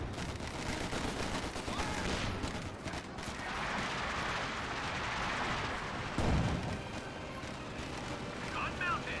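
Gunfire in a Company of Heroes 2 video game battle: dense, continuous volleys of rifle and machine-gun shots with heavier blasts mixed in, under a steady voice talking throughout.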